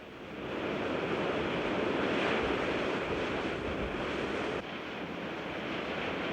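Southern Ocean surf pounding the tall Nullarbor cliffs, a loud continuous roar of breaking waves mixed with wind buffeting the microphone.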